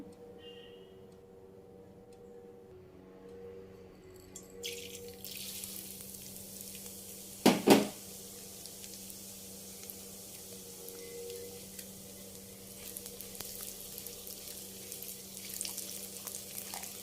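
Mustard seeds sizzle and crackle in hot oil, a steady hiss with one sharp burst of popping partway through, close by and fairly quiet.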